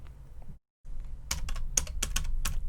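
A password is typed on a computer keyboard at a desktop login screen: a quick run of crisp key clicks at an uneven rhythm, close and fairly quiet, following a brief silent gap.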